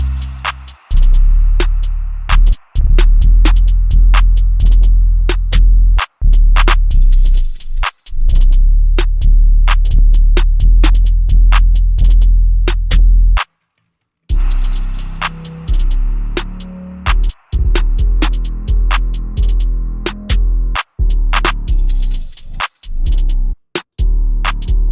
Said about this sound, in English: So altogether, this is what the drums sound like.